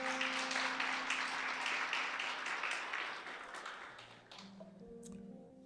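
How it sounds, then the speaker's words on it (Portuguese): A church congregation applauds during a service, a broad wash of clapping that holds steady and then fades out over the last couple of seconds, with a sustained tone lingering underneath. "Vamos aplaudir a Deus por essas vidas"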